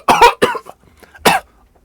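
A sudden fit of coughing up close: a quick cluster of harsh coughs, a brief pause, then one more sharp cough.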